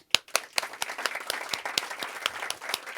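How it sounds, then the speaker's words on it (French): An audience applauds the Esprit Frappeur team at an album launch, a lively burst of clapping from a small crowd with uneven, distinct hand claps throughout. "J'aimerais qu'on applaudisse toute cette équipe de l'Esprit Frappeur."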